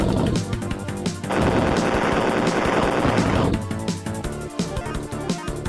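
Rapid bursts of gunfire from enemies shooting in a retro video game, loud rattling volleys with a dense sustained stretch in the middle, layered over game sound effects and no talking.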